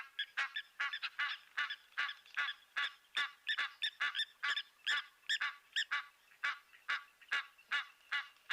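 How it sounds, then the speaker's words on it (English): Egyptian goose calls in a nature setting: a long run of loud, repeated nasal honks in quick regular bursts, close and clear against a quiet background. "the Egyptian goose audio really"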